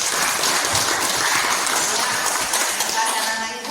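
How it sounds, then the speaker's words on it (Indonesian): An audience in a class session claps in a dense, steady round that fills the room and tapers slightly toward the end. "Tepuk tangan untuk kita semua."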